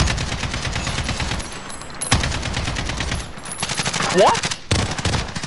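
Rapid automatic gunfire in Call of Duty: Modern Warfare hardcore multiplayer, dense bursts of shots with a brief pause, a player's voice briefly heard over the shooting.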